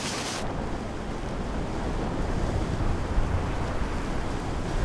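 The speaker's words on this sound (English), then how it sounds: "Want de wind is te sterk geworden." Strong gusting wind batters a tent outdoors, a loud continuous roaring rumble with buffeting microphone noise and no pauses.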